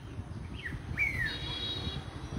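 Birds chirp in trees beside the Gomti river, with two or three short rising-and-falling calls and a brief trill standing out clearly over a steady low outdoor rumble.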